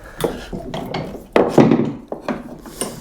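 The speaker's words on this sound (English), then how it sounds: "we can just cut straight down there with a tenon saw" Tenon saw cutting straight down into wood for a dovetail halving joint, with several rasping strokes in an uneven rhythm, close and moderately loud, stronger near the middle of the cut.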